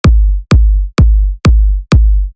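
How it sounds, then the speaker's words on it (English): Layered kick drum samples, one placed on top of another, hit five times about half a second apart, each a loud, punchy thump with a deep sustained low end and a sharp attack. "Normally, producers just put the top kick drum on another kick drum and it sounds like this."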